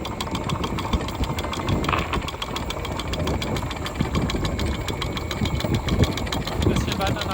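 A boat's motor runs steadily with a knocking, chugging idle that holds a rough, even drone throughout, with a voice speaking over it.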